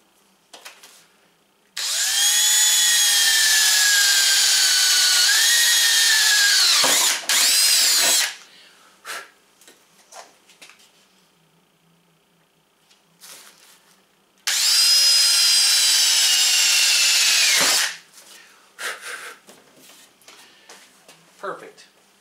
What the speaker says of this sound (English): Then we'll just take a drill. Got my drill bit all set up, and we'll just go ahead and tap some holes in here